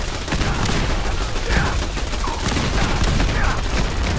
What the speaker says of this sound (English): it sounds like the firefight got down here as well